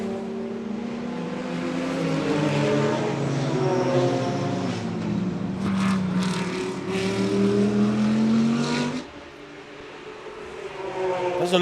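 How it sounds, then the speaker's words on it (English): A pink Lamborghini Huracan race car in an Extreme SuperCars race roars past with a loud engine note that rises and falls through gear changes, then fades as more engines approach, with crowd-level track ambience. "that's Ricky Giannacaro's pink Lamborghini Huracan"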